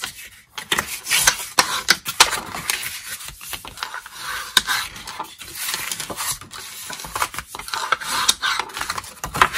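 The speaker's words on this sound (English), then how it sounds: "You do want to burnish it with your bone folder." Bone folder rubbing firmly along score lines on a milk carton, a series of dry scraping and rasping strokes repeating at close range without any talk.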